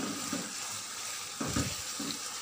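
Capsicum goes into fried masala for a minced meat dish, a dense close sizzle with a few soft scraping strokes of a spoon stirring through it.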